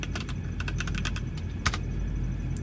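Clicky computer keyboard keys tapped in quick irregular bursts while a command is entered into a Linux virtual machine on an M1 MacBook Air, over a steady low background hum, no talking.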